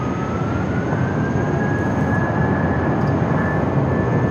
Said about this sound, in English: It's an old America West A319.